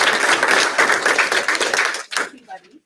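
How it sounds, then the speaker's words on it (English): Applause from an audience at a school district board meeting, dense clapping for about two seconds that breaks off abruptly, followed by a brief quieter tail with a voice. "let's give him a round of applause"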